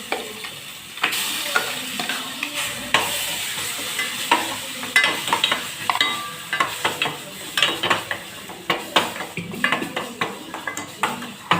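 Garam masala is stirred in a sizzling frying pan, the spatula scraping and clinking against the metal in a quick, uneven rhythm over a constant close-up hiss of hot oil; no voices.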